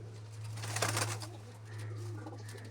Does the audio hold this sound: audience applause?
no